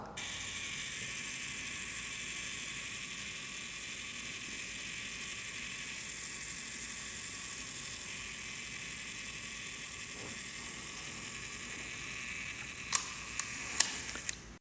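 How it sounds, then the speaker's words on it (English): A mechanical self-timer on a Leica IIIf rangefinder camera runs as a steady, faint whir, then ends in a few sharp shutter clicks near the end. "You heard the shutter and the image is taken."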